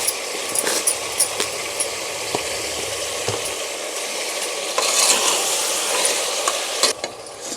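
Mutton curry pieces are stirred in hot oil in a pan, with an ongoing sizzle and frying hiss broken by sharp scrapes and clinks of a spoon against the metal, close up with no talking.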